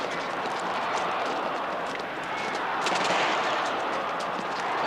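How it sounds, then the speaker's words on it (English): Gunfire in a tense drama scene, a scattered series of sharp cracks set in a dense, continuous noisy wash of crowd or ambient sound, with no clear speech. "Shots."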